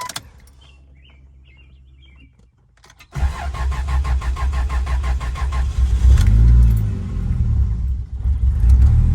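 A lifted Jeep starting up: quiet idle background, then the starter cranks and the engine catches into a loud, close, steady rumble that swells briefly as it revs before settling.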